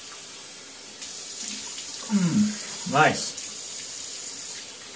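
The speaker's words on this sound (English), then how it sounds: "I'm going to rinse this off, and then we'll just lather." Tap water running steadily in a sink while something is rinsed off, a continuous close hiss with a few splashy swells, and a person speaks briefly over it.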